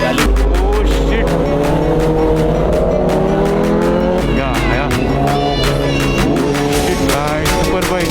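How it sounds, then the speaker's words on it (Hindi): Several Kawasaki ZX10R superbikes roar through a tunnel, their loud, echoing engine notes sustained throughout with a pass peaking near the middle, while someone briefly speaks over the din. "सुपर बाइक चेक करो कहाँ से टनल चेक करो साउंड लेवल चेक करो"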